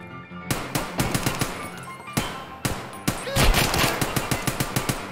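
Rapid automatic gunfire from a video game, sharp bursts of shots in quick rhythmic succession, loud and close, with a brief pause midway before another dense burst.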